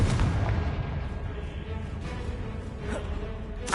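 Fiery blast from the Confringo spell in Hogwarts Legacy, a dull booming burst up close followed by rumbling debris and a couple more sharp cracks.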